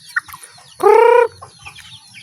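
A two-month-old native chicken gives one clear, loud, harmonic cluck-like call up close, with faint scattered chirps and peeps from other young birds around it.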